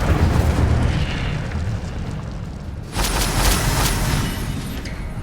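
An Incendio fire spell is cast in Hogwarts Legacy, a sudden rumbling burst of flame rising over steady background noise partway through.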